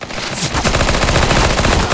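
Sustained rapid automatic fire from a P90 in Counter-Strike: Global Offensive, a loud, close, continuous rattle of shots lasting about two seconds.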